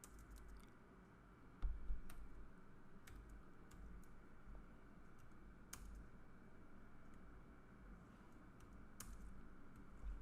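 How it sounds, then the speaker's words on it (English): Key clicks from a slightly sticky computer keyboard during coding, quiet and irregular, with a couple of sharper taps standing out over a low steady room hum. "My keyboard's a little sticky."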